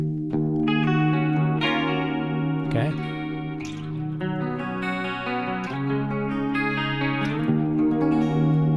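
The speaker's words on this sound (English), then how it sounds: "This one will actually use that harmonic tremolo that I engaged a moment ago by accident." Electric guitar chords pulse with a wobbling harmonic tremolo shimmer, played fairly loud with a washy effected tone; a brief spoken word appears near the start.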